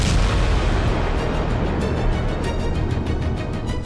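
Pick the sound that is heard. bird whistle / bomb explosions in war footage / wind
bomb explosions in war footage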